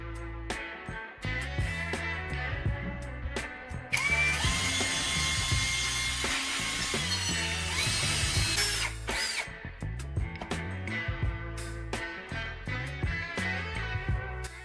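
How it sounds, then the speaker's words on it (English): Power drill boring a single hole through a small wood block to hold a guide rod, a loud steady high whine that rises and strains through the middle of the cut, with intermittent clicks and knocks before and after. "Drill one clean hole through that mark. Keep the drill straight because this hole will hold the guide rod."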